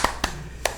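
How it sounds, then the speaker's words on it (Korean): A few scattered hand claps from an audience sound in quick succession, three sharp, fairly faint slaps spaced unevenly within less than a second. "이럴 때는 박수 쳐야"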